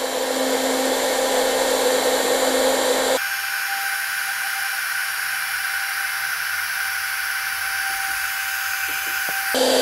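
A cordless heat gun fitted with a concentrator nozzle blows a steady, loud hot-air roar with a constant fan whine, shifting to a slightly different tone partway through, with no talking.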